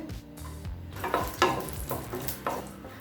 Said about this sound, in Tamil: அடுத்தது கொஞ்சம் கருப்பு திராட்சை சேர்த்துக்கலாம்.